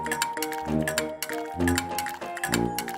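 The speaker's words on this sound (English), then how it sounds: "Mix all the ingredients with the spoon." Cartoonish clinking and tinkling chimes of a spoon mixing flour, egg and butter in a kids' cake-making video game, bright repeated tones layered over light musical notes.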